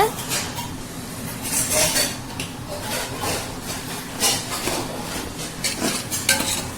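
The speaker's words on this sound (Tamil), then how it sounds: "நல்லா மிக்ஸ் பண்ணி விட்டுக்கலாம்." Mutton being stirred and mixed with ginger garlic paste in a pot, a steady rhythm of wet scraping and clinking against the vessel, close by, with faint background voice.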